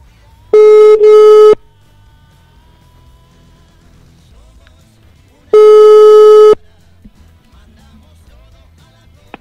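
Two long steady electronic ring tones on an outgoing telephone call, the first briefly broken in the middle, separated by several seconds of quiet room noise.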